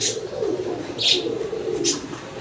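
Fancy pigeons, a breeding pair, cooing in a low steady murmur, broken by two or three short higher chirps, fairly close and without talk.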